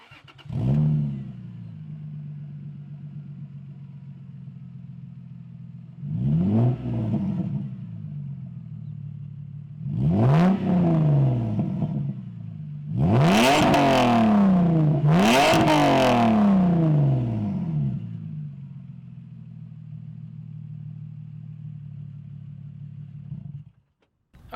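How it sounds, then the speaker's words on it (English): A car exhaust at a steady idle, blipped through four loud revving bursts. The last two come close together and climb highest before it settles back to idle, with no talking. "And now I'm going to turn the car on and do a proper exhaust clip video for you."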